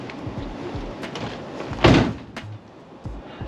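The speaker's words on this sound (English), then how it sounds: "I'm gonna slam the door close." A car door on a Subaru WRX build is swung shut with one solid thud in the middle, amid light garage handling noises and small knocks before and after.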